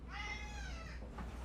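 A cat named Tiny gives one drawn-out meow, clear and close above a low steady hum, with a faint short sound just after.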